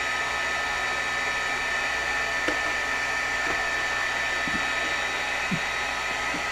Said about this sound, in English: I hold my heat gun off to the side just to let it warm up, because then it just embosses faster